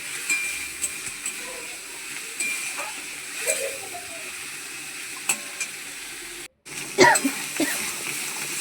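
A spice paste of ginger, garlic, chilli, onion, cumin and coriander fries in oil in a wok with salt and turmeric, giving a soft continuous sizzle with stirring scrapes. Several throat-clearing coughs break in, and there is a short dropout.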